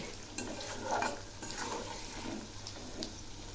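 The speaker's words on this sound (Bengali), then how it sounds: "আলুগুলো ভাজা প্রায় হয়ে এসছে" Potatoes sizzling in a pan with onions, a gentle continuous fry broken by light spatula scrapes and taps, fairly quiet and with nobody speaking.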